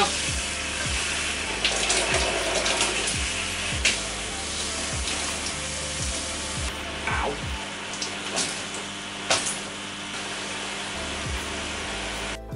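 Water runs steadily from a StoneStream shower head right after it is switched back on, a broad hiss with a few sharp knocks and clatters scattered through it.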